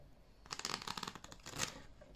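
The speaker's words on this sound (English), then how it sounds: "Fold them, shuffle them even." Tarot cards being shuffled by hand, a quick run of soft papery riffles and flicks lasting a couple of seconds, close and fairly quiet with no talking.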